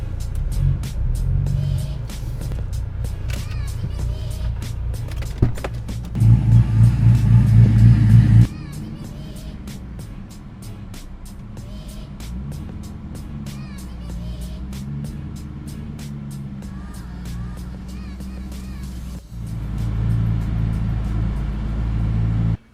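A 2004 Pontiac GTO's engine runs under a voice, a continuous low rumble that swells into a louder burst of revving partway through and then settles back while he keeps talking.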